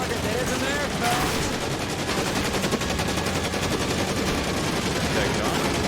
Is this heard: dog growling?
no